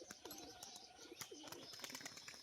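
Pigeons coo softly in a few low, rounded, rolling calls, faint and close, mixed with scattered chirps and small clicks in a quiet yard.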